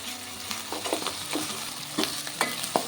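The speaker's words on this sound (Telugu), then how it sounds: "అల్లం వెల్లుల్లి పేస్ట్ కూడా పచ్చివాసన పోయేంత వరకు ఫ్రై చేసేసుకుందాం" Ginger garlic paste frying in a pan, a steady close sizzle with spatula stirring and light scraping clicks at irregular intervals, no talking.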